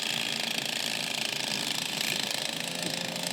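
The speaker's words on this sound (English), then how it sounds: "we're going to start it through the ratchet here and back through" A strap is fed through the ratchet of a pole tent, giving a steady, continuous ratcheting buzz of mechanical clicks, close and loud throughout, with no talk.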